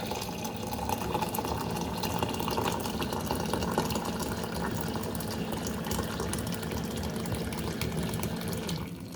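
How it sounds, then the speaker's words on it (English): Hot water pours steadily into a glass holding a cinnamon tea blend, a continuous rushing, filling sound at moderate level with no talk over it. "And then I'm going to add some hot water"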